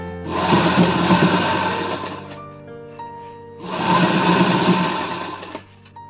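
A sewing machine runs a topstitch along a blouse edge in two loud, close bursts of steady whirring, separated by a short pause filled with low tonal hum.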